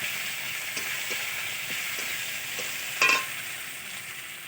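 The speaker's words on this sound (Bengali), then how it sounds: "এবার এটা একটু ভেজে নেব লাল লাল করে" Garlic and onion frying in oil with cumin and bay leaf, a steady close broadband sizzle with faint stirring taps throughout and a brief louder burst near the end, no talking.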